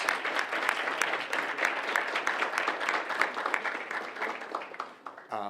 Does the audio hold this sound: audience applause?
yes